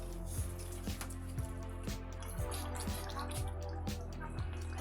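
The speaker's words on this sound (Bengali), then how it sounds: "এই হচ্ছে, এঁচোড় ফুটে গেছে।" Young jackfruit boils in a pot with soft, rhythmic bubbling and popping over a low steady hum from the stove, close and quiet, with no talking.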